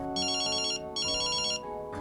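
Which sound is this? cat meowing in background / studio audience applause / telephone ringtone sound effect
telephone ringtone sound effect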